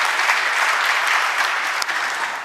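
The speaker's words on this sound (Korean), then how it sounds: "박수 부탁드립니다." A large audience gives dense, sustained applause at a national government briefing event as a presenter is introduced, an even crowd roar of clapping that fades slightly toward the end.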